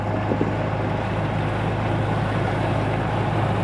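A Newport Vessels NT300 electric outboard motor runs at full throttle on a boat, giving a steady, loud, unbroken hum and wash with wind noise buffeting the microphone throughout.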